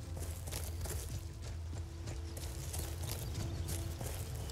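Horse hooves clip-clop at a walk in the Skyrim video game, a steady repeating rhythm of hoofbeats under continuous in-game music and ambience, moderately loud throughout.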